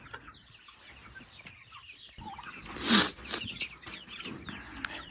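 Chickens clucking softly nearby, with one louder squawking call rising briefly in the middle amid quiet farmyard background.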